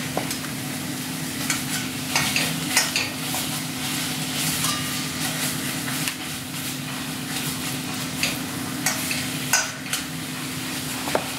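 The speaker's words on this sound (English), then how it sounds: "I brown the meat first. Here's the pound of ground beef on medium heat." A pound of ground beef browns in an oiled pan over medium heat, sizzling steadily while a utensil scrapes and knocks against the pan in irregular strokes, close and without speech, over a faint constant hum.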